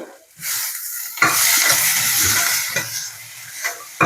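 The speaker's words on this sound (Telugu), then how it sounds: "ఇప్పుడు టమోటాలు వేసి ఎగనిద్దాం" Tomatoes fry in a pan for okra chutney, a bright, steady sizzle that starts after a short pause, with stirring scrapes and a few utensil knocks against the pan close by.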